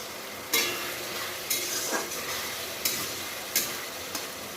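Pointed gourd coated in poppy seed paste being stir-fried in a pan, a constant sizzle broken by five or six crisp scraping stir strokes at fairly regular intervals, close and without talk.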